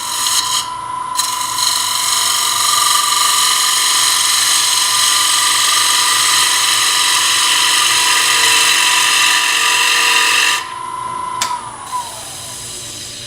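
A bowl gouge cuts wood on a spinning lathe with a loud, sustained high whir and rasp close by, steady for about ten seconds before easing off, followed by quieter scraping and the turning motor.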